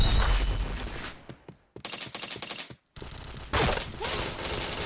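Rapid bursts of automatic gunfire from the shooter game Point Blank, loud and close, with dense volleys broken by brief silent gaps before heavy firing resumes.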